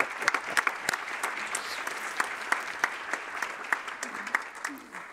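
Steady round of applause from the audience at a full-day council meeting, many hands clapping densely and evenly, fading slightly toward the end.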